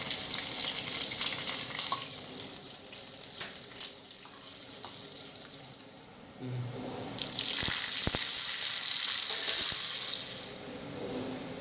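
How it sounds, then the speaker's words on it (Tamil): Cashews and raisins frying in ghee for sweet karuppatti pongal, a steady close sizzle with occasional stirring clinks that swells louder partway through, no voices. "முந்திரி பருப்பு திராட்சையெல்லாம் நெய்யில் வதக்கி சேர்த்துக்கலாம்"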